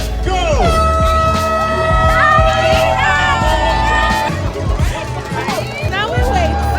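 A crowd of spectators at the start of a running race cheers and calls out loudly, with bright horn-like or bell tones ringing over a dense, continuous babble of voices.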